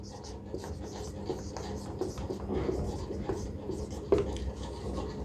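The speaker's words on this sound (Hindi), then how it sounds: "तो इसको हम लोग कैसे लिखेंगे, इसको हम लोग लिखेंगे" Marker or chalk writing on a board during a Hindi-language lecture on constitutional history, steady close scratching and rubbing strokes running throughout, with a faint voice in the background.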